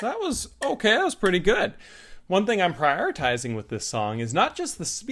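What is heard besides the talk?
No distinct noise like a dog, phone or traffic.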